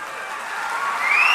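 A crowd at a public event on industrial expansion in Andhra Pradesh breaks into applause. Dense clapping builds slightly in loudness over a brief stretch, and a faint whistle-like tone rises near the end.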